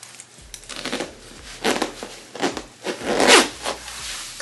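A zipper on a plus-size clothing item is pulled in several quick, rasping strokes. The strokes are close and fairly loud, and the last pull is the longest, with no talking.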